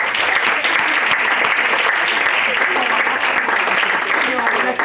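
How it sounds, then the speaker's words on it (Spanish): Steady, dense applause from the audience at a round-table panel on transparency and good governance, loud and continuous for about five seconds with no pause. "Un fuerte aplauso, por favor, para Juan Carlos Galindo."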